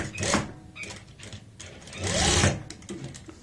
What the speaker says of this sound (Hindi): फिर से आगे की साइड सिलाई लगाएंगे